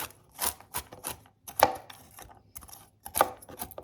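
A knife finely chops walnuts on a board for an orange-walnut espasol, giving sharp, irregular chopping strikes close up with no talking.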